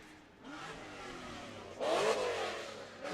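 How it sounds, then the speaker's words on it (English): A 703-horsepower drift car at a British Drift Championship qualifier on the Teesside track goes to full throttle, its engine rising into a loud revving roar that swells sharply near the end. The sound carries over distance. "And Chivers puts foot to floor and unleashes all of that power. 703 horsepower."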